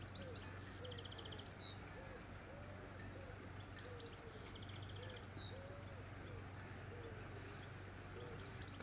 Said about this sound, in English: Need plenty of birds and stuff singing in the trees and all around me.